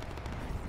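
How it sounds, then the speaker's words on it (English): Rapid bursts of gunfire from the online shooter PlanetSide 2, a dense rattling volley of shots at moderate distance filling the short moment without talk. "Somebody's got some fresh shots."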